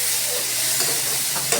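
Garlic frying in a pan on the verge of burning, giving a loud, dense sizzle with stirring scrapes throughout.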